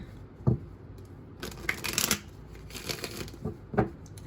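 A Psychic Tarot Oracle card deck is shuffled by hand in a quiet room, giving soft riffling and flicking bursts with a few sharper snaps, close and fairly faint.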